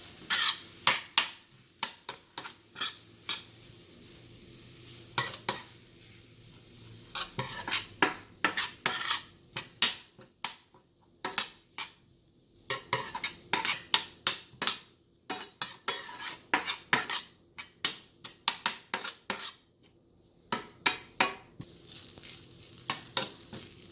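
A utensil scrapes and clatters repeatedly against a pan while a rice mix for chicken and beef burritos is stirred, bursts of close metallic scraping over a faint sizzle, with brief pauses between strokes.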